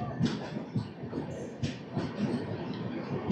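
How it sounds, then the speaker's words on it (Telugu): The Rayalaseema Superfast Express 12794 pulls away from Kadapa station, a low, fairly quiet rolling rumble with recurring clanks and bumps as the carriages get moving. "కడప స్టేషన్లో ఒక 2 మినిట్స్ హాల్ట్ తర్వాత మన ట్రైన్ స్టార్ట్ అయిపోయింది"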